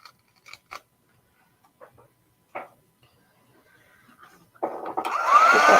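A hair dryer is switched on near the end to dry chalk-paint stencilling on an upcycled bulletin-board sign, blowing loud and steady after a few faint taps and handling noises in a quiet room.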